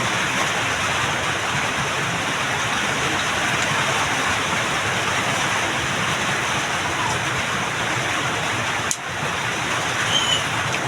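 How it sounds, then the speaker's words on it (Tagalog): Steady heavy rain pours continuously, a dense even hiss with a brief dip near the end. "lakas ng ulan."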